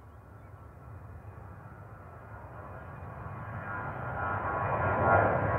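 A Ryanair jet at Manchester Airport roars with engine noise that builds steadily louder over a few seconds as it nears, heard alone without speech.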